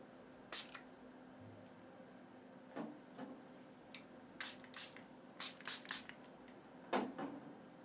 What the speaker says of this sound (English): I need to spray water.